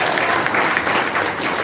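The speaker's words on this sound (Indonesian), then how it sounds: "Tepuk tangan dulu dong." An audience at a political discussion breaks into dense, loud applause, a continuous wash of many hands clapping throughout the short moment.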